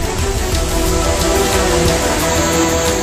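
Heavy rain pours steadily in the Sirmaur hills of Himachal Pradesh, a loud, dense and unbroken wash of noise with no voices.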